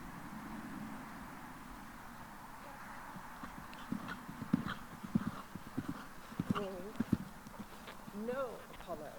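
Horse hooves beating in a canter on an arena surface as the horse Apollo is ridden on the wrong lead, uneven thuds growing louder toward the end, heard under a rider's voice and a steady background hiss.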